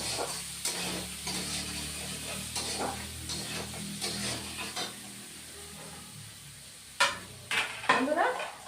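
Salted ingredients for a bathua greens dish are sautéed in a pan, with a soft sizzle under repeated spatula scrapes and clinks. The sizzle fades to quiet for a couple of seconds before a few louder utensil clanks close by.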